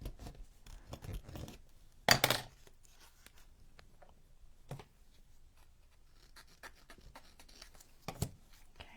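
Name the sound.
cutting craft material with scissors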